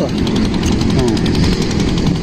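A homemade wooden boat on the Koshi river, driven by a water pump set engine, runs with a loud, steady, rattling drone that never lets up, close by and filling the whole stretch.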